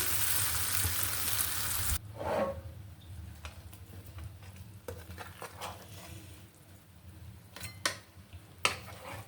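A fish mixture is poured over hilsa frying in plenty of oil: a loud burst of sizzle at first, then a quieter crackling fry with occasional sharp pan and utensil clinks.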